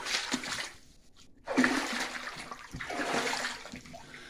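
Boots wade and splash through roughly foot-deep water in a flooded 1940s-era coal truck mine, with sloshing bursts, a brief quiet gap, then renewed churning splashes close by.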